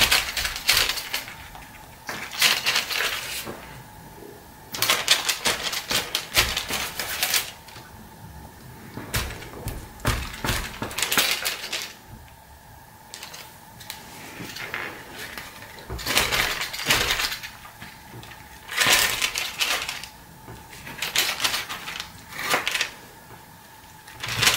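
A knife cuts bread dough into small pieces for a tomato pesto bread, repeated close chopping and scraping knocks in irregular clusters over a long stretch, with quiet handling sounds between.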